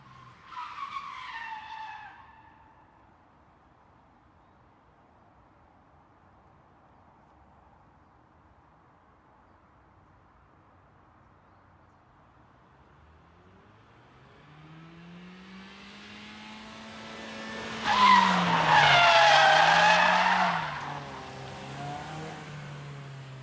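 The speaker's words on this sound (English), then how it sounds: "You handbrake in, get sideways, and the minute you're pointed at the direction you need to go" A front-wheel-drive car pulls the handbrake to slide sideways, with a brief squeal at the start, a rising engine drone, then a long, loud tire skid that peaks near the end before fading out.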